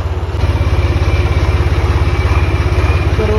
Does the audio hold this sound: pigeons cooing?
no